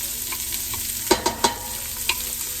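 Onions and tomato paste fry in bacon grease in a pot, a continuous hiss of sizzling punctuated by a few sharp scraping clacks of stirring, close and fairly loud with no talk.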